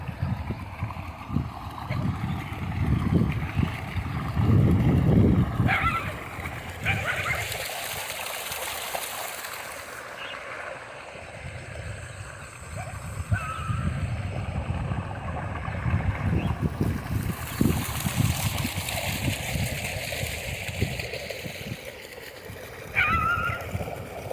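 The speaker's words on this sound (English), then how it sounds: "We've got a waterfall there." Broad, steady rush of water from a waterfall at an urban lake fed by discharged sewer flow, heard close and continuous, swelling and easing slightly over time, with outdoor ambience around it.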